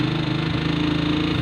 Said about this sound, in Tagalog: Dapat maganda yung idle at dapat hindi humahagok pagka binibigay nyo yung silinyador ng mabilisan.